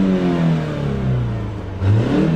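A BMW E46 engine revs up under throttle, the note rising and falling in a couple of quick close bursts with a whirring mechanical edge, heard alone without talk.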